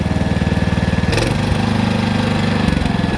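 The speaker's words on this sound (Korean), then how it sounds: "일단 그럼 시동 걸어가고 한번 조작해 보겠습니다 키 온 시동 시동 일발이죠" Engine of a homemade tracked carrier truck running just after starting, a close, loud, steady chugging idle with a quick rev bump partway through.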